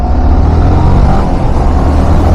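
A Yamaha R15 motorcycle engine runs loud and close, a steady, dense roar with strong low rumble while the rider downshifts through the gears on the road.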